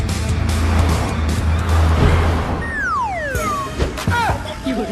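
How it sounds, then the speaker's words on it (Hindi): A car engine roars steadily at close range, with a swooping whistle-like squeal sliding downward partway through and brief chirps after, loud throughout. "मैं बिना हाथ पकड़े गाड़ी चला रहा हूँ"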